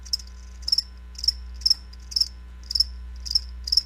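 Crickets chirp in repeated short bursts with a steady, evenly spaced rhythm, clear and fairly close against a quiet low hum.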